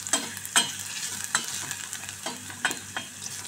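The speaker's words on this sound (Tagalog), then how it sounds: "mekos-mekos lang ng bawang at sibuyas" Garlic and onion sautéing in olive oil, a continuous close sizzle punctuated by regular scraping strokes of a utensil stirring through the pan, with no voices.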